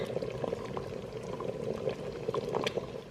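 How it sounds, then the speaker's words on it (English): Pinto beans simmer in an Instant Pot, a steady low bubbling and gurgling that runs without a break, with a few small pops and clinks rising here and there. "So I'm gonna let this simmer for about 5 to 10 minutes."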